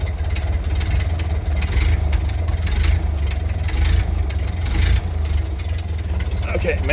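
A Ford Model A engine with a throttle that won't return to idle runs with a steady, low, rumbling chug throughout, close and fairly loud, without any clear revving.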